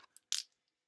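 Small dice from a Downey Games Pro Wrestling 2 tabletop game dropping onto a surface, giving three quick, close clicks and clatters, the last the loudest, followed by silence.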